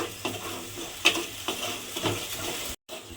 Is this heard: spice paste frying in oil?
yes